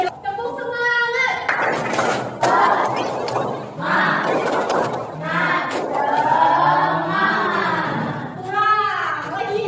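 A group of people doing a rhythmic spirit clap chant, with loud shouted voices and patterned clapping close by, the chanting voices dominating the sound.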